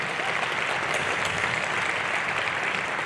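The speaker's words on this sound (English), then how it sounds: "Let's give another big round of applause for the praise team" Rally crowd at a Baptist association gathering giving the praise team a big round of applause, a loud, full, continuous roar of clapping that stays even and close throughout.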